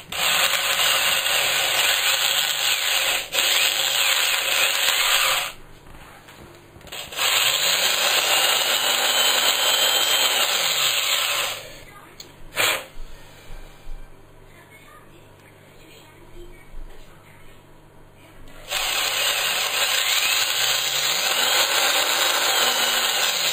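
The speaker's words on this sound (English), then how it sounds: "Just need a couple of holes in this now." Power drill boring a couple of holes in a plastic strip for homemade LED plinth lights, a loud steady whine in several long bursts with short pauses, close up and alone.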